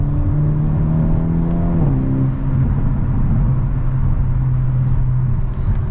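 Steady, loud drone of the 2023 Hyundai Elantra N's 2.0-litre turbocharged four-cylinder pulling hard, pitch rising and briefly dropping at a shift, heard from the cabin without speech.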